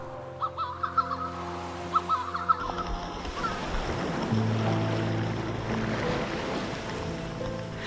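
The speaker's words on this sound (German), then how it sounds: "kleine Wellen plätschern sanft gegen die Felsen und erzeugen eine Musik, die niemals verstummt" Small waves lap and splash against coastal rocks along Mexico's shore, a soft continuous wash of water building in the second half, with a few bird calls and a steady low tonal hum early on.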